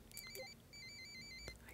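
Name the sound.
telephone ringing in the video game Murder by Numbers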